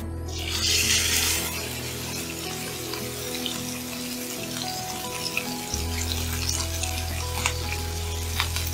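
Veal fillet sears in a hot pan, a steady close sizzle and frying crackle with a brief louder hiss of spattering at the start, no one speaking over it.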